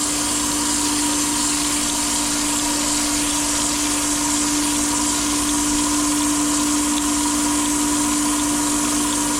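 A crankshaft being ground on a crank grinding machine in an engine machining shop: a loud, steady whine and hiss with a constant tonal hum that runs unchanged for nearly ten seconds.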